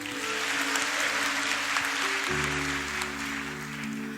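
Audience at a church prayer meeting applauds and cheers a stage actress, a steady wash of clapping at moderate level over sustained instrumental tones from a keyboard or organ.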